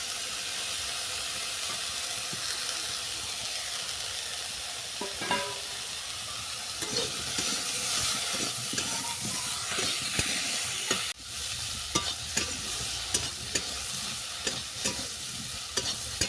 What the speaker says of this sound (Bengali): কিছুটা ভেজে নেওয়ার পর দিয়ে দিচ্ছি কুচানো পেঁয়াজ